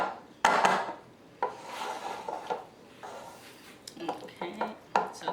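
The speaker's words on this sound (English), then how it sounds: "So just mix it through to make sure all the chocolate is melted." Melted chocolate and butter being stirred in a bowl after microwaving for a chocolate biscuit cake, a spoon scraping and clinking against the sides in irregular strokes, close up, with brief pauses between strokes.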